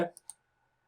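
Two quick, faint computer mouse clicks, crisp and close together, follow the tail of a spoken word in a quiet room.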